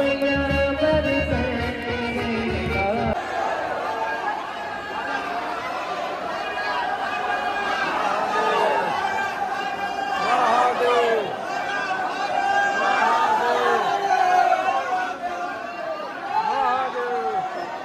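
A dense crowd of pilgrims at Mahakaleshwar temple in Ujjain fills the air with continuous chatter and babble, close and steady throughout, with voices overlapping in a packed indoor space.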